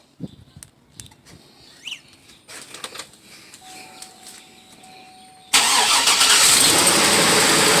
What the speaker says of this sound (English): And I put my remote start on there. Let me start it up for you guys.